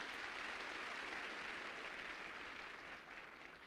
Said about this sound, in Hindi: मैं एक बार उनके लिए तालियां चाहूँगी